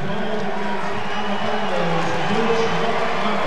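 Crowd at a 2003 NCAA Tournament basketball game between IU and Alabama gives the officials sarcastic applause, a steady dense roar of clapping and crowd noise mixed with an announcer talking over it.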